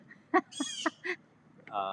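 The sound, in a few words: birds calling, warning a cat in a tree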